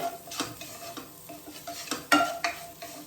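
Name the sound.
vegetables with mixed herbs being stir-fried in a pan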